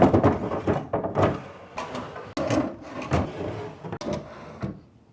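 Wooden dresser drawers in a thrifted bedroom being pulled open and pushed shut repeatedly, a run of close sliding rumbles and thumps.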